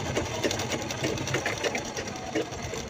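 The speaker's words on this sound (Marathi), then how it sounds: "आता याच्यात दुसऱ्या साईडने सुद्धा आपण स्टिच करून घेऊया." A sewing machine stitches along the fabric edge of a handmade mobile pouch, with a rapid, even mechanical chatter running throughout the short stretch at close range.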